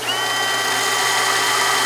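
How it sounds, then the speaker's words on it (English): A bolt chucked in a power drill and spun against a running sander to turn its head down during a Chevy 3600 truck lowering build; a steady, loud whirring grind with a constant motor hum throughout, no talk. "chuck this in my drill and hold it against the sander in an effort to turn the head down a little bit"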